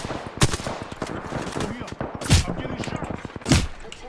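Bursts of gunfire from the Apex Legends battle royale, three loud broadband shots standing out over a busy stream of game sounds and steady clicking rhythm, with no voices heard.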